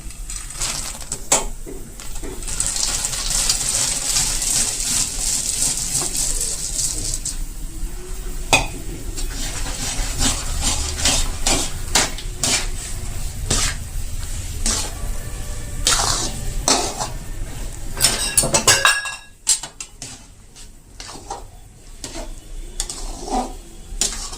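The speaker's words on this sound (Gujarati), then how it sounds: "હવે ગેસ બંધ કરી દેશું અને તેમાં આપણે દાણા નાખી દેશું" Peanuts tipped into hot jaggery syrup in a pan off the heat and stirred for chikki, with busy scraping, clinks and scattered taps from the utensil against the pan, close and steady, easing off near the end.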